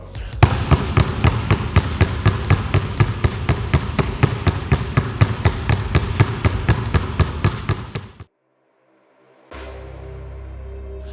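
A basketball is bounced rapidly and steadily on a hard court in a low dribbling drill, a dense run of loud, even thumps for about eight seconds, then a pause and a faint hum.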